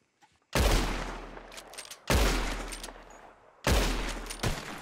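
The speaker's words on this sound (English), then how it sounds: "Whoever shoots the most bottles wins, okay?" Three loud gunshots at bottles in the video game Red Dead Redemption 2, each a sharp crack with a booming, slowly fading tail, spaced about one and a half seconds apart.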